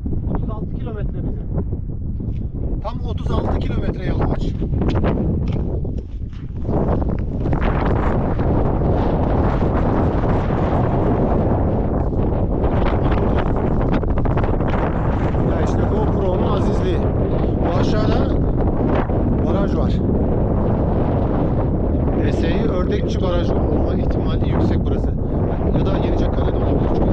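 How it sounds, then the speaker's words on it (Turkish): Strong wind buffets the microphone at a marble quarry in loud, continuous gusts, with someone talking through much of it. "Biliyorum çok rüzgar var burada şu an"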